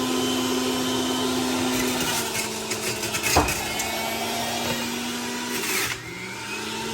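Breville Juice Fountain Elite juicer motor running steadily as cucumber and apples are fed through, a loud continuous whir with a brief louder grinding burst midway and a slight drop near the end.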